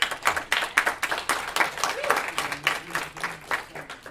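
Audience at a variety follies show applauding, a steady patter of many hands clapping close by for a few seconds with a faint crowd murmur beneath.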